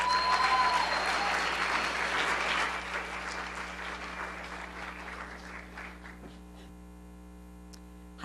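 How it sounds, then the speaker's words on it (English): Audience applause at an Ignite Lincoln talk evening, a dense sustained clatter of many hands over a steady mains hum, fading gradually toward the end. "give her a round of applause"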